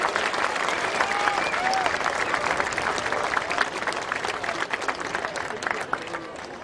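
A crowd at the 2011 Australian Rowing Championships applauds the men's single scull President's Cup winner and medalists, with dense, sustained clapping that stays loud and steady throughout and a voice faintly audible beneath it.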